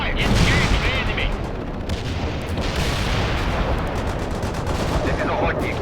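Gunfire from a World in Conflict video game battle with tanks, dense continuous shooting and booms at high volume, with shouted voices mixed in.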